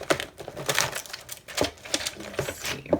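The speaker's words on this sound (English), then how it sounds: "I think the typewriter is fun." A typewriter in use at a craft desk while envelopes are being decorated, with irregular bursts of crisp mechanical key strikes and clacks, fairly close and with no talking.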